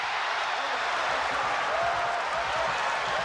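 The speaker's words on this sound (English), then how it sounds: "the crowd is yelling as loud for Michael Jordan when he does something like that as they do for the New York Knicks, the home team" Basketball arena crowd cheering loudly for Michael Jordan at a New York Knicks home game, a dense, steady roar of voices and applause filling the whole moment.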